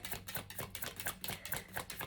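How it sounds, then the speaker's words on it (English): Tarot cards being shuffled by hand in a rapid, steady stream of crisp riffling clicks and flutters, close and fairly quiet, with no talking over it. "let me keep shuffling"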